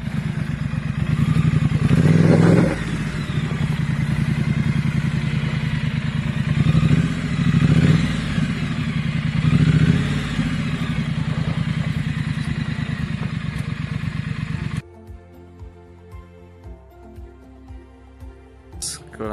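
A 2019 Rambler motorcycle ridden offroad, its mid-pitched engine droning loud and close with rising revs and clattering thumps over rough ground, then cutting to a quieter, steadier tone near the end.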